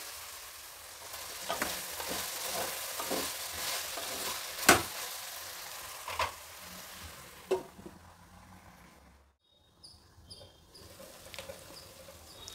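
Raw plantain cooking covered on a low flame, a soft steady sizzle with occasional stirring knocks and scrapes of a utensil, fading toward quiet near the end.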